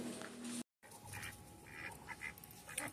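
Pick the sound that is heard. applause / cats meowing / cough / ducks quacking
ducks quacking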